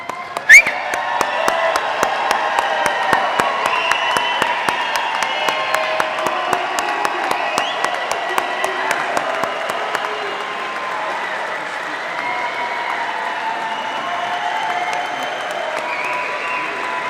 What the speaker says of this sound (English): let's stand up and give a rousing round of applause for these cadets who are about to get their rings